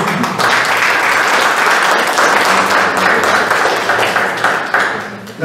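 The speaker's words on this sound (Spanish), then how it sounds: "Pido a todos los presentes recibirla con un fuerte aplauso" A roomful of listeners at a book presentation on pandemic and education breaks into strong applause, a loud continuous wash of overlapping claps that holds steady before tapering near the end.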